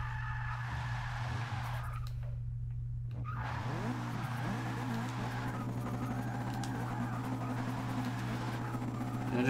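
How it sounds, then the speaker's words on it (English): A car doing a tire-screeching burnout balanced on its tail wheel during a wheelie in the Forza 6 video game, with a steady engine drone and skidding squeal throughout. "That I do a burnout off the tail wheel"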